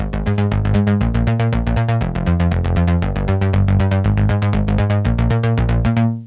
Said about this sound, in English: So the Monopoly sounds like this.